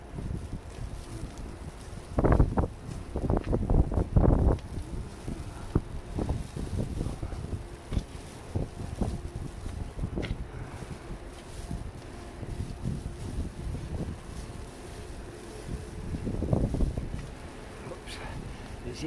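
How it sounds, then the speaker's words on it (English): Strong wind gusts buffet the microphone during a nor'easter snowstorm in Halifax, several loud bursts early on and another later, over a steady roar of blowing wind. "Ooh, sometimes you get a gust."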